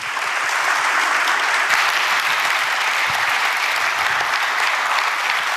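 Audience applause fills a government national report event presenting the Lee Jae-myung administration's five-year plan: dense, steady clapping from a large crowd, sustained and even throughout with no voices.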